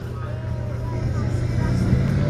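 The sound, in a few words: 48-tonne T-72 M4CZ tank driving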